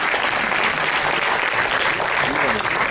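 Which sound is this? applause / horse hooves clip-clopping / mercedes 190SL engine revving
applause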